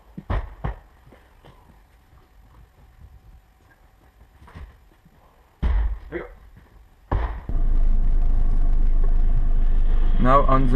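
Abarth 500 on the road: sharp knocks and clunks give way to the engine catching and settling into a steady, deep rumble for the last few seconds.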